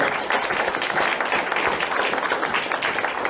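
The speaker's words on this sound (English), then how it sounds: "Let's give a big round of applause." A large audience at an association address applauds loudly and steadily, a dense continuous wash of clapping that holds at an even level throughout.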